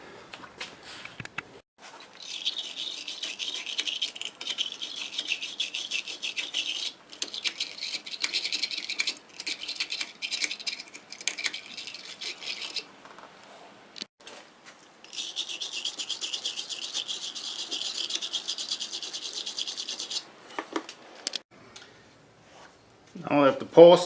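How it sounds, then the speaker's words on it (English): Sandpaper rubs and rasps at oxidation on the battery posts and cable clamps of a Chrysler Town & Country minivan, in steady close scraping bursts that pause briefly mid-way. "you want to take some sandpaper and then clean the oxidation off of"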